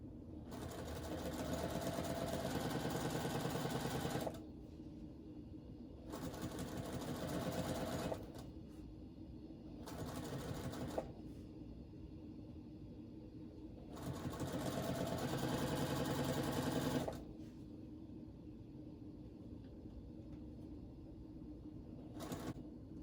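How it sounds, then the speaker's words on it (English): A home sewing machine stitches quilt strips in several bursts of rapid, even whirring, each lasting a few seconds and separated by quieter pauses of near idle hum. "Just going to sew the strips on."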